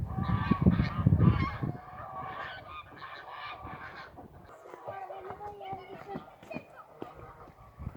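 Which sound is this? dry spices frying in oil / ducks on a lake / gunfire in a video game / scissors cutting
ducks on a lake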